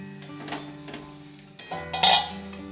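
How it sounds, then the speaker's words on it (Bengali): A lid comes off a cooking pot of simmering moong dal and ash gourd with a short metallic clink and scrape near the end, over a quiet background hum. "2 মিনিট পর আমি ঢাকাটা তুলে দেখে নিচ্ছি।"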